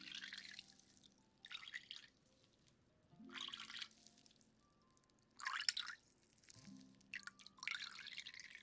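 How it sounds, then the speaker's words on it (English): Water dripping in a spa-day cleaning scene, several separate bursts of splashing drips in an uneven rhythm, close and fairly soft, with no voices. "So, here is some fun water sounds."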